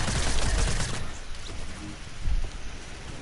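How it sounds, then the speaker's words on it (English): Rapid bursts of gunfire in Fortnite crackle loudly at first, fade into a quieter rattle, and return in a short, stronger burst near the end, with no talk. "There's 2 people shooting from both sides."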